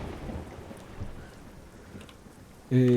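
Steady rain in Euro Truck Simulator 2 patters as a soft continuous hiss, joined at the end by a sudden loud tonal burst that cuts across it.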